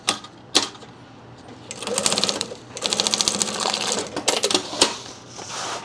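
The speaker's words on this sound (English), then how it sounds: "baste them down like this in the right spot while attaching the grab handle" Sewing machine basting backpack straps and a grab handle in place: bursts of fast, rattling stitching stop and start several times, loud and close, with no talking.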